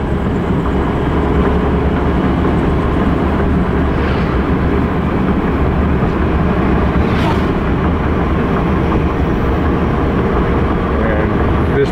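A borrowed vehicle with very tight steering drives along a road at night in the Philippines, giving a loud, constant engine and road roar with wind buffeting close to the microphone and no talking.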